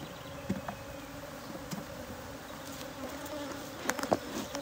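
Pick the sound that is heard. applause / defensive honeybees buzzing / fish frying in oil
defensive honeybees buzzing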